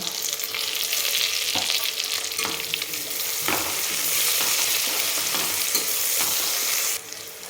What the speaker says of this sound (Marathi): कच्चेपणा जाईपर्यंत आपल्याला हे परतून घ्यायचं आहे.